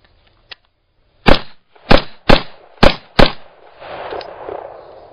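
Five sharp AR-15 rifle shots ring out close and loud in an uneven rhythm, each with a brief echoing tail, followed by a low rumbling wash of noise.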